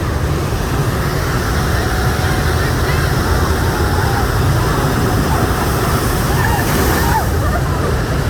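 Constant rushing, splashing water at the Infinity Falls water ride in SeaWorld Orlando, a loud continuous wash with a voice talking over it.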